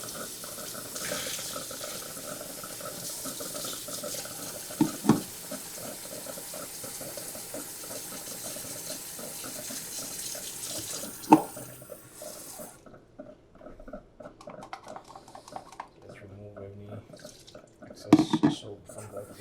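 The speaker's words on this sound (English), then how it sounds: "We can rinse this. Make sure we have enough water" Tap water runs continuously at a moderate level, rinsing soap while cleaning a Gucci chukka boot, with occasional clinks and knocks over the stream as the flow eases near the end.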